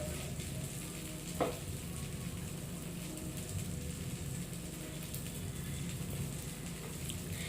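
Ghee dosa roasting on a hot pan, a steady soft sizzle and crackle of ghee throughout, with one small clink partway through and no talk.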